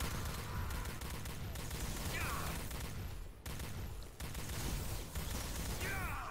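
Gunfire in the video game Elite Force 2, a dense, sustained fusillade of rapid shots and crackling blasts filling the whole stretch with only a brief dip midway, loud and continuous.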